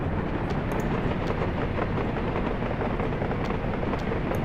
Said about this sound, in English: As our train rolls out